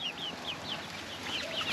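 Chickens cluck and chirp softly in short, scattered calls, somewhat distant, over faint background noise.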